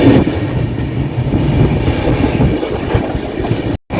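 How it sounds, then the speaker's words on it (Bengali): An economy coach rumbles loudly and steadily on the rails with rhythmic wheel clatter as the Alipurduar–Sealdah express pulls into Kamarkundu Junction, heard close from inside the carriage, with a brief dropout near the end. "শিলিগুড়ি জংশন থেকে 552 কিলোমিটার ক্রস করে আমাদের ট্রেন এসে পৌঁছলো কামারকুণ্ডু জংশনে।"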